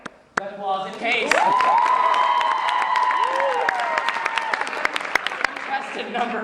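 A crowd at a live contest claps and cheers to vote for contestant number four, with sharp clapping under loud, sustained high-pitched whoops and squeals that build after a brief lull and then trail off.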